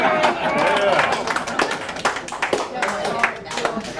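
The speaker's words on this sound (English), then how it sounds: "While we're busy applauding here" A live show crowd claps and applauds, with uneven, scattered hand claps rising and falling for about four seconds while people talk over the top.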